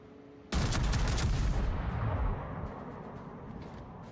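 Heavy naval gunfire from a battleship in a naval warship game: a single loud, booming broadside salvo bursts in suddenly, then rumbles and slowly fades into a lingering low roar with no talking.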